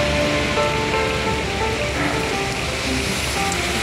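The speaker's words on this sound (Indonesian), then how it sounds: "Ini Bang Tadin sekarang terjebak hujan. Hujannya cukup deras teman-teman." Heavy rain pours down steadily outdoors, a loud dense hiss that stays unbroken throughout, with no voices heard.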